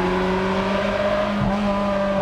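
An early Ferrari engine being driven hard gives a loud, steady, close rising engine tone with strong harmonic whine and a brief dip near the middle, with no talking.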